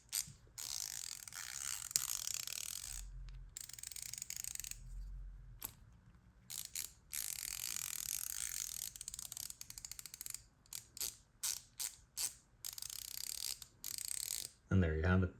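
A Matco 1/4 inch flex head ratchet, freshly fitted with a new gear mechanism, ratcheting in long sustained runs of fast metallic clicks, then shorter choppy bursts near the end, close and fairly quiet.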